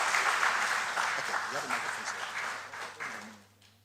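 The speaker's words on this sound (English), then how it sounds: "let's clap for him" Audience applause at an insurance industry event, broad clapping that swells then fades out over a few seconds, with speech mixed in beneath it.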